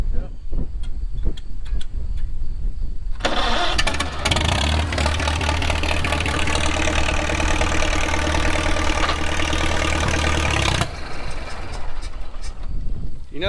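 Wartime Farmall H tractor engine cranks, catches and settles into a loud, rumbling idle that runs for about seven seconds before cutting off. The sound is close, with outdoor handling noises before and after.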